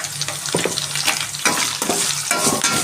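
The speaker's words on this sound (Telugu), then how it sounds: "బాగా ఫ్రై చేయాలి." Bitter gourd fries in a hot pan with vigorous stirring, a close, continuous sizzle broken by regular spatula scrapes and knocks.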